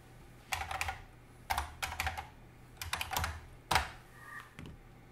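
One-time password code typed on a computer keyboard, a series of distinct close key clicks in small irregular clusters with short pauses between them.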